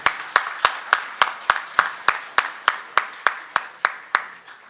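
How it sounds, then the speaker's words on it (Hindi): An audience at a Hindi comic poetry gathering claps in slow, sharp unison, about fourteen evenly spaced crisp claps ringing out with a short room echo and no talking. "एक बार जोरदार तालियां बजनी चाहिए"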